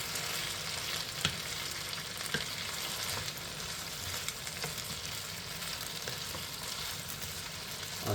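Spring onions being mixed as they fry in a pan for Kenyan pork with potatoes, a steady close sizzle with soft scraping and occasional light clicks of the utensil, without speech.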